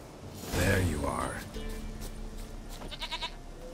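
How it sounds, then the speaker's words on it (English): A goat in The Witcher 3: Wild Hunt lets out a close, wavering bleat, followed by quieter game sounds and a short rapid rattling near the end. "Here, goat."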